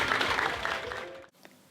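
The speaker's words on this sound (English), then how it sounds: "Let's give Luke a huge round of applause." A short burst of clapping from a group at a music therapy congress, fairly close, that cuts off abruptly near the end.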